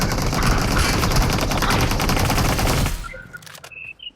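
Dense automatic gunfire in a BGMI room match, a loud nonstop rattle of rapid shots for about three seconds before it abruptly stops, leaving a few faint game sounds.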